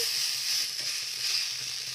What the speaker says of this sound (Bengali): তো মাছের ঝোল ফুটছে